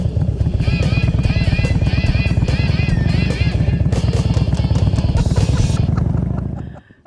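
A motorcycle rides steadily and loudly up close, its engine a continuous droning rumble with whining tones above, before cutting off and fading at the end as it arrives to park at a ski hill chairlift.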